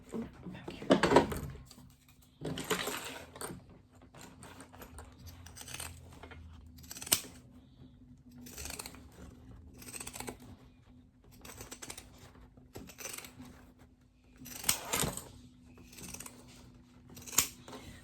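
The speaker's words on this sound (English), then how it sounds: "I'm just going to trim with my pinking shears wherever they went." Pinking shears trim fabric for a backpack sewing project in a series of crisp, close snips spaced irregularly over a quiet background, with a few louder cuts standing out and occasional talk between them.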